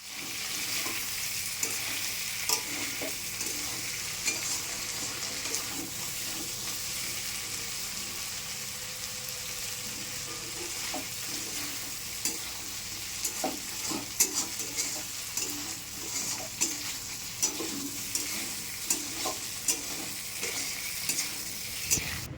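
Prawns fry in a pan with a steady close sizzle and repeated stirring scrapes and clicks that run throughout, with no voices.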